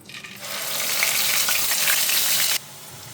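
Onion paste hits hot oil in a kadai with a loud, bright sizzle that swells quickly, holds steady for a couple of seconds, then drops off abruptly to a softer crackle.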